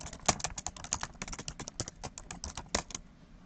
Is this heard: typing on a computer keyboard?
yes